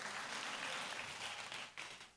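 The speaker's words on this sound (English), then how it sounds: "Again, let's give God a round of applause." A church congregation gives a round of applause during a Sunday service, a continuous wash of clapping heard at a distance and fairly soft.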